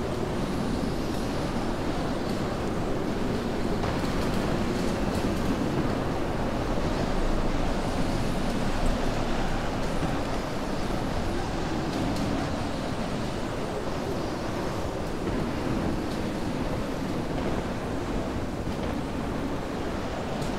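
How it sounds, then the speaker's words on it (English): Stormy ocean waves and howling wind in the naval game From The Depths, a dense, continuous roar of surf and gusts that runs unbroken and fairly loud throughout, with no voices. "So now we're in a stormy situation, and it's water mountains."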